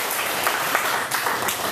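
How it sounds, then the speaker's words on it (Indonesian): Dense, steady applause from an audience at a seminar on application security and OWASP, a continuous wash of clapping with no pauses. "Tepuk tangan teman-teman sekalian."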